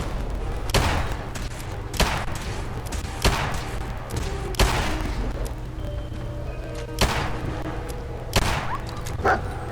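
Video game gunfire from a Fallout-style shooter, a series of heavy thudding shots spaced a second or two apart over a low rumbling background, with no talk.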